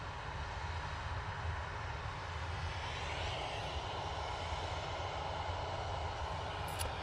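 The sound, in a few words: Ryanair jet airliner engines at airport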